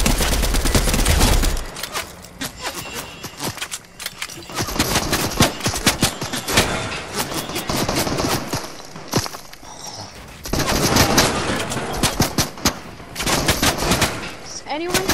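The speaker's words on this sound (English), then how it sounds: "he's shooting things at me" Enemy gunfire in a multiplayer shooter video game, dense bursts of rapid automatic shots and single cracks, loud and close, coming in waves with brief lulls, with players' voices talking over parts of it.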